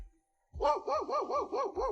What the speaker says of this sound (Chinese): 因为狗汪汪汪叫了这么久